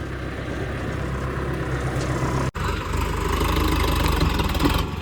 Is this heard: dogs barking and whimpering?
no